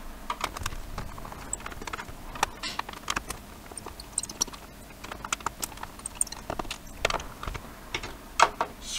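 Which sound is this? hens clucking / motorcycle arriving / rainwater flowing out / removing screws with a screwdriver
removing screws with a screwdriver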